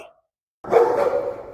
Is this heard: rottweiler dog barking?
yes